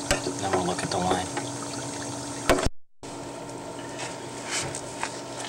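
Water runs off through a residential sewer line during a pipe inspection, a steady rushing, gurgling wash that cuts out briefly partway through and then resumes.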